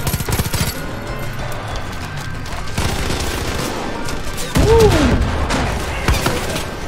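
Heavy automatic gunfire in the shooter Far Cry 5, loud and close, with sustained overlapping bursts, booming thuds and a whistling, falling tone near the end.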